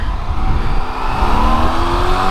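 A car driving up a country lane near Barnard Castle, heard from inside as a steady engine hum with rising gear whine and road rumble, loud and continuous, no talking.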